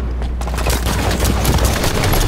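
A loud, continuous rattle of rapid gunfire in Halo 5 fills the moment of a headshot, dense and close with no pauses and no talk.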